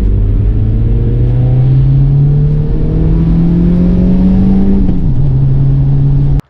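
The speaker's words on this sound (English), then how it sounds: "let's see how this sounds then." A Volkswagen Golf 1.8T engine fitted into a Mk1 Golf idles loudly and steadily, its pitch rising gradually as it revs, then dropping briefly near the end before the engine cuts off abruptly.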